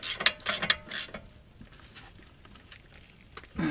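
A hand ratchet clicks in a few quick bursts while tightening the brake caliper bolts on a 2008 Dodge Caravan, close and crisp, followed by a quieter pause and a final short burst of clicks.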